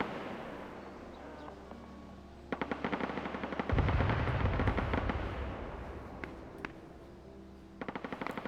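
Gunfire from the Arma 3 video game on the snowy Chernarus Winter map, demonstrating the Eden audio tech, with distant rattling automatic bursts and a heavy rumbling blast, quiet and echoing.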